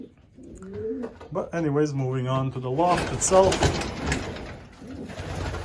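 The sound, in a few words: pigeons cooing in a pigeon loft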